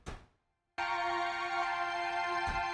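Mellotron-style patch from the Omnisphere software synth: a sustained tonal keyboard chord swells in after a short transient and holds steady and loud, rich in harmonics, with a soft knock near the end and no voices.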